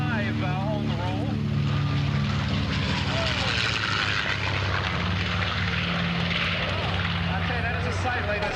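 A B-25 bomber's piston engines and propellers roar in a steady, loud, unbroken drone on the takeoff roll at an air show, with a fighter alongside. The sound carries on without letting up from start to finish.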